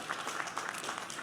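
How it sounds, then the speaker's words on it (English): Brief burst of crowd applause for the mayor and city leaders at an update on the NFL Draft in Detroit, steady clapping from a sizable audience heard somewhat distant throughout. "let's just have a round of applause for the mayor and all the city leaders"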